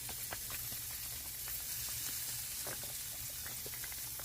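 Smoked pork belly on a Lone Star Grillz grill gives off a steady, faint sizzle and hiss throughout, with scattered soft crackles and light spritzing. No one talks over it.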